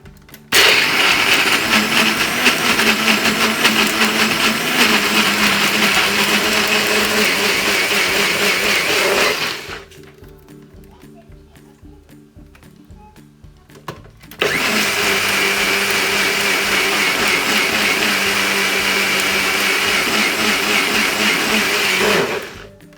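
A countertop blender whirs loudly as it purees a roast chicken marinade with olive oil, running steadily for several seconds, cutting out briefly to a quiet pause, then roaring again at full power.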